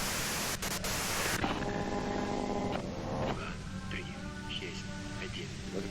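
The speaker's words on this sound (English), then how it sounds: "you can do it through the white noise." A radio in the game Disco Elysium hisses with steady loud white noise and static, with faint tonal warbles running through it and no clear speech.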